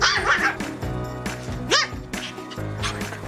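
Bori, a puppy under 100 days old, yipping and barking in short high bursts with whimpering squeals in between, close and loud, mixed with household noise.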